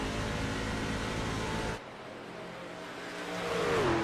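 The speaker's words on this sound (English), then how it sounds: "You can hear him dragging the brakes, but that truck not turning down as deep as Holland and Phillips." A race truck at Pocono Raceway dragging its brakes into a turn, a loud steady engine roar that cuts off abruptly, then a quieter hum rising again with a swelling engine note.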